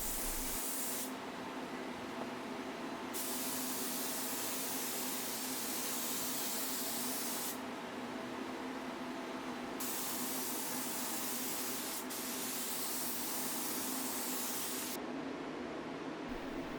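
A paint spray gun hisses steadily and loudly throughout while spraying a high-gloss finish on a dresser, its airy rush briefly changing tone several times as the trigger pressure shifts.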